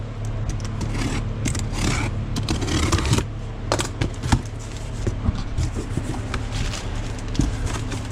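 A parts package from 1320 Performance is cut and torn open up close, with scraping, rustling and crinkling cardboard and plastic at a steady pace.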